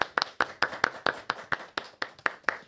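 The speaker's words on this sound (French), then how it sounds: "On peut l'applaudir, ce monsieur Grace TV" A small group applauds a guest at a panel event in Grigny: steady, evenly spaced handclaps, fairly sparse and moderately close, continuing throughout without speech.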